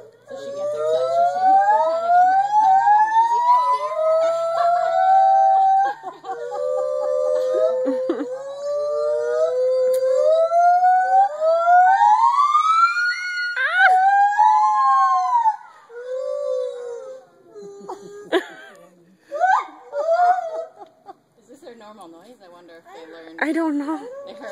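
White-handed gibbons calling in a siren-like pattern, long rising and falling wailing hoots that climb and swoop loudly, then break into shorter whoops, with people talking faintly in the background.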